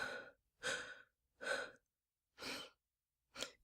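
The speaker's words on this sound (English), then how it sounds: "Deep breath." Five slow, deep breaths in and out, drawn close to the ear with quiet pauses between, the last one shorter and sharper, no talking.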